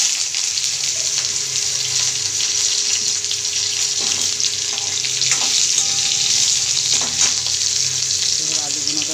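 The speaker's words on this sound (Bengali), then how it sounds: "এবার আমি আলু ছেড়ে দেবো এর মধ্যে।" Potatoes frying in hot oil in a pan, a steady loud sizzle running throughout with occasional stirring clatter, no talk.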